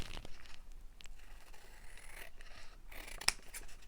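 Scissors trimming the white edge off a sheet of paper for an autumn altered book junk journal, quiet steady snipping and sliding of the blades with a sharp click near the end.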